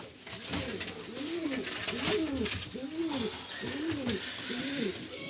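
Repeated soft, throaty cooing of pigeons nearby, rhythmic rising-and-falling calls over a low background hum.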